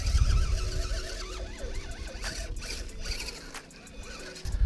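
A TRX4 RC crawler on a sandy beach slope whirs and grinds as its motor and gears rev under throttle in a hard tight turn, close and fairly loud, with tires scrabbling in the sand.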